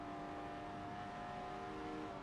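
A race car in Forza Motorsport 7 holds a steady, loud engine drone at high revs, with strong tonal harmonics and no voice over it.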